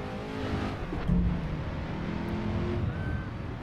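A Ford GT40 engine in the racing game Assetto Corsa, driven on the Targa Florio road course, drones steadily and loud throughout, with rising and falling harmonic whines as it revs and shifts, and a brief thump near the middle.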